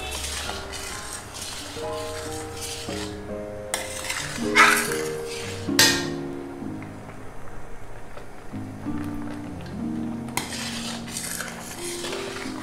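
Spoon scraping and clinking against a kadhai while stirring mango kalakand mixture, with repeated close metallic scrapes and taps in an irregular rhythm, backed by soft music.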